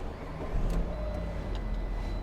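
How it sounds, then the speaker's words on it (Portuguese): A Fiat 500 that was written off as a total loss starts up, and its engine settles into a low, steady idle rumble heard close by. "Eu vou ligar o carro e tentar mostrar para vocês qual item que acabou condenando esse carro a uma perda total."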